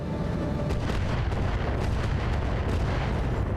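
Heavy rocket barrage slamming into targets in the BattleTech video game, a dense, continuous roar of overlapping explosions and booms that stays loud and near throughout, with no talking.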